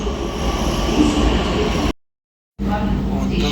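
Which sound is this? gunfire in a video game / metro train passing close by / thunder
metro train passing close by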